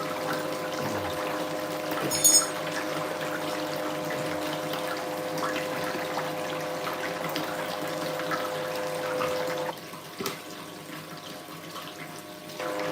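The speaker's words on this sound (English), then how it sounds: "Let me put some more water in here." Water poured and running into a gold pan of dirty water during gold panning, a steady continuous pouring and trickling wash heard close up, with a brief sharp clink near the start.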